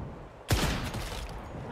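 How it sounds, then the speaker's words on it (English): Enemy gunfire in the game Once Human, a sharp burst of rapid shots breaking in after a quiet moment, then a lingering rattle and echo, fairly close and without speech. "This woman just keeps shooting at us."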